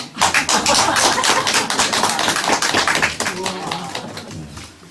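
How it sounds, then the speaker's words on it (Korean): A church congregation claps for a child who has renewed his faith, a dense, sustained patter of many hands that fades toward the end, with a voice or two heard beneath it. "박수 쳐줘야 되겠네"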